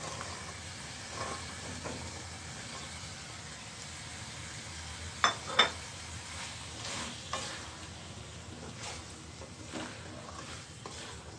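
Potatoes tossed into a pan of spices already fried for two minutes, for mini beef shingara filling; a steady soft sizzle with occasional stirring scrapes and a couple of sharp metallic clinks.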